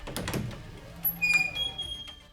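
A door creaks slowly open in a narrated horror story, a faint, muffled, drawn-out creak heard briefly against a quiet, hushed background.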